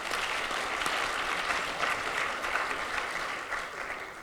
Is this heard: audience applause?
yes